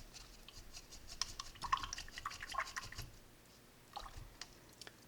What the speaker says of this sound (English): Okay, rinse out your brush.